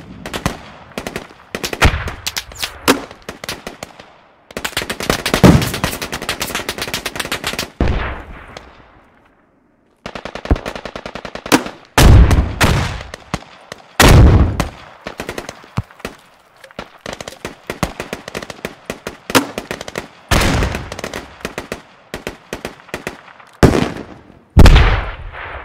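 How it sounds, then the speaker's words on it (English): Bursts of automatic rifle fire and single gunshots crackle through a Squad firefight in the Kohat Toi river valley, loud and close, coming in repeated volleys separated by short pauses. "You are shooting at my position."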